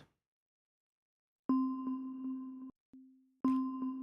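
Mallet bell notes played live in Ableton Live 12: a clean struck tone with bright overtones enters after silence, rings through several quick repeated hits, cuts off, then a softer sustained note and another ringing strike follow, alone and close.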